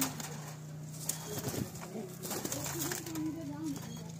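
Tournament high-flying pigeons coo in soft repeated murmurs beneath someone speaking, with a steady background hum throughout.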